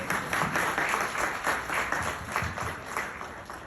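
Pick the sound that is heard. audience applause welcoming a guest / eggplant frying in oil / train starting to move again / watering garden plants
audience applause welcoming a guest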